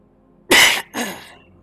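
A single close, loud cough in two quick bursts, a harsh first hack followed by a softer second one, then quiet.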